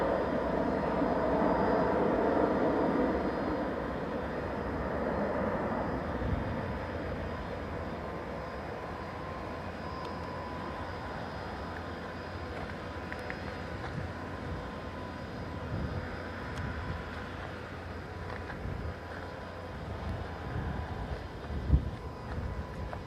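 A passenger jet lands at Stockholm Arlanda airport, a loud broad engine roar at the start that eases into a lower, steady rumble as the plane rolls out, heard from a distance outdoors.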